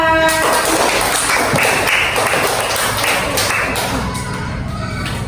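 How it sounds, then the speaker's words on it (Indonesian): A primary school class claps together for a classmate, dense and loud overlapping hand claps filling the room, with a few stray taps and shuffles. "Oke, tepuk tangan buat Reva."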